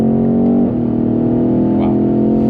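A 2021 BMW M850i xDrive in Sport Plus pulls hard in second gear toward 3,500 rpm, a loud, close, steady engine drone that shifts pitch partway through, with no talking.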